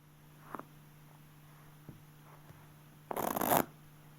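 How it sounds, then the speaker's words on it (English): A short, loud riffle shuffle of playing cards, a quick fluttering burst near the end after a few soft taps and handling sounds. "Get used to riffling the cards one at a time."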